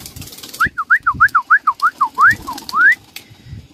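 A pigeon gives a quick run of about a dozen clear, rising cooing notes in a regular rhythm, followed by a couple of longer swelling calls, loud and near with no voices.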